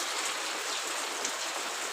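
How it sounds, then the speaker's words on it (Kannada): Heavy rain falls on a foggy mountain road on the way to Kedarnath, a dense, steady rushing hiss that stays even and close throughout with no voices. "ಫುಲ್ಲು ಮಳೆ."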